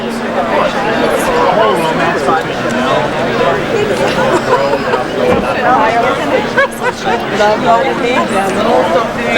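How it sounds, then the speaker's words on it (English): Dense crowd chatter in Los Angeles, many overlapping voices babbling loudly and close by, a continuous hubbub with occasional louder individual voices standing out. "This is why the crowd is here."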